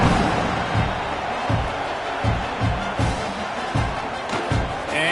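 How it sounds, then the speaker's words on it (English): A dense, steady crowd roar fills an Oklahoma Sooners college football stadium after a score, with rhythmic thumps pulsing beneath the buzz. "this crowd is buzzing after that last score"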